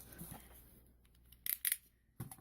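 Scissors snip through fabric sheath material in a few quick, close cuts, with quiet handling rustles between the snips.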